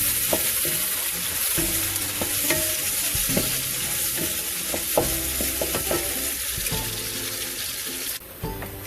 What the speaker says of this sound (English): We've let it sizzle a little bit and simmer.